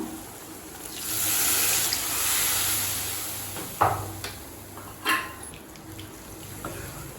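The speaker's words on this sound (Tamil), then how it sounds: "1 கப் அளவு தண்ணி சேர்த்துக்கலாம்." About a cup of water is poured into a pan of sautéed spices for kurma, making a gentle gushing splash for a couple of seconds, followed by a few sharp clinks and knocks of utensils.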